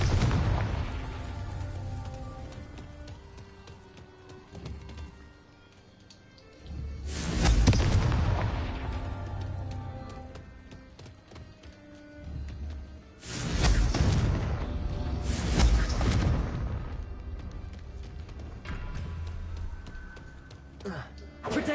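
Confringo blasting spells explode in Hogwarts Legacy as heavy booming blasts with whooshing bursts, several big swells spaced across the stretch, loud and near, with a voice calling out between them.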